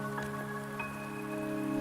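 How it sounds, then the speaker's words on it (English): Steady rain falls in Wuthering Waves, a faint, even patter beneath a sustained musical drone, with a few soft droplet taps standing out briefly. "Don't worry, the rain won't last much longer."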